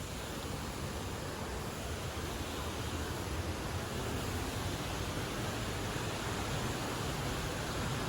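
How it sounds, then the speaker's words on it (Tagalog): Waterfall at Ushiga Falls on the Kakizore River, a steady broadband rush of falling water that holds even and constant throughout, with no voices. "Punta kami sa Waterfalls."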